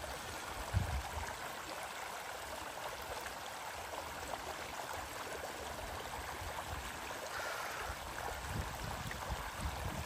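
Creek water flows steadily in a wooded park, a constant broadband rush and trickle at moderate distance with no talk over it.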